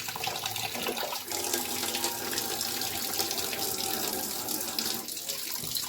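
Tap water runs steadily into a dish while salting grey mullet roe, a continuous close splashing stream with no speech.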